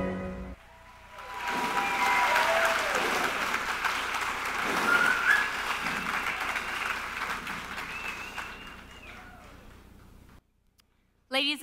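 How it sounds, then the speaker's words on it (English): An evening comedy show audience applauds a puppeteer: clapping swells after a quiet opening and holds for several seconds with tonal sounds and voices woven through, then fades and drops to silence before a brief final burst. "a warm welcome of applause for our puppeteer, Andrea Noel"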